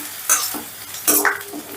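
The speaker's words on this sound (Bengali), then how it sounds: "এবারে গ্যাসের আঁচটা মিডিয়ামে রেখে পেঁয়াজটাকে আমি বেশ লাল লাল করে ভেজে নেব।" Chopped onions fry in oil in a pan over medium gas heat, turning deep red-brown. The sizzle comes close and moderate, and two bursts of stirring and scraping sound out in the short stretch with no one speaking.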